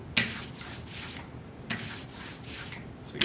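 A brayer rolls oil-based printing ink back and forth on a slab, making a tacky, hissing rasp in rhythmic strokes, each about half a second, close and fairly quiet.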